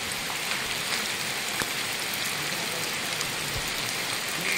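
Heavy rain pours steadily at a muddy off-road rescue site where stranded rigs and a Ranger sit in a mud pit, a dense, even hiss with no pauses.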